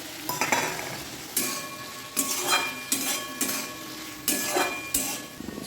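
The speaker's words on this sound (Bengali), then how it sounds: "আদা লঙ্কা বাটাটা দিয়ে দিলাম দিয়ে খুব ভালো করে কষি" Potatoes fry in a pan with ginger-chili paste, stirred in repeated scraping strokes that clink the utensil against the pan over a steady sizzle, close by with no talk.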